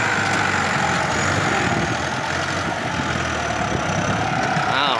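Tractor engine chugging steadily while driving through soft, sticky mud in a small rice paddy, a continuous close mechanical drone throughout.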